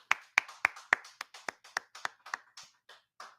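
A class group claps in a loose rhythm, about a dozen sharp, close claps at a steady pace that thin out and soften toward the end.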